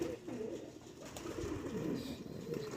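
El Moro pigeons coo steadily in low, rolling tones while the birds bathe, close and continuous with no talking.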